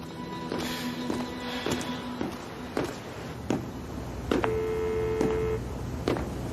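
A telephone is dialled to place a call, with a series of short electronic tones and key presses spaced out over several seconds, followed by a sustained steady tone, heard close and clear.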